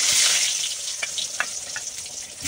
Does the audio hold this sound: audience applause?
no